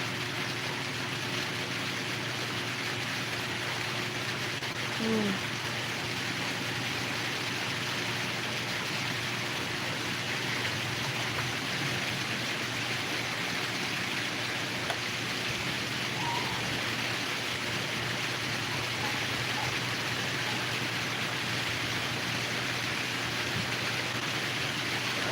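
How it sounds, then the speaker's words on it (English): Heavy typhoon rain falling steadily, a dense continuous hiss with no pauses, close and even throughout. "it's raining by the way. I think we have like a typhoon again."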